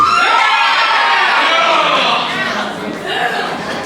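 A wrestling show audience cheers and yells in a dense, continuous roar that swells early, then eases slightly while staying loud and close throughout.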